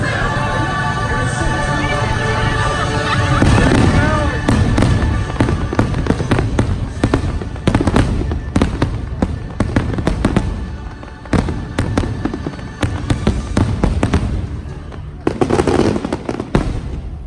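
Fireworks at a nighttime Disney Villains After Hours event pop and crackle in rapid bursts, some sharp booms among fizzing crackles, with a crowd murmuring and cheering beneath.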